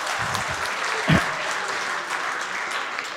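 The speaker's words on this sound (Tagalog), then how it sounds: "Isa pa nga pong palakpak para kay Solen." A church congregation claps for the singer Solen, a short burst of dense, even applause that fills the room and holds steady throughout, with one louder thump near the middle.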